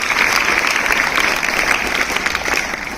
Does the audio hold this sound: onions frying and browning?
no